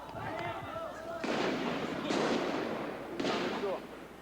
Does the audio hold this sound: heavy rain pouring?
no